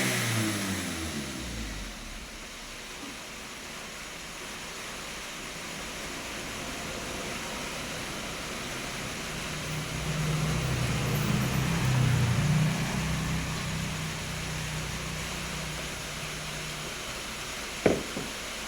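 A car engine rises under throttle during an ECM load test, a steady idle climbing into a louder, rougher rev around the middle before easing back down, ending with a sharp knock.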